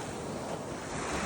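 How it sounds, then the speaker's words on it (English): Ocean waves wash onto a beach at Turtle Bay, Hawaii, in a steady broadband roar with wind noise buffeting the microphone throughout a short stretch, no voices. "Let's take a nice secluded walk along the beach."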